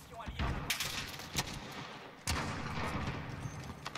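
Gold .357 revolver fired in Call of Duty Modern Warfare, with a few sharp, booming shots spaced about a second apart, each followed by a ringing tail over busy game noise.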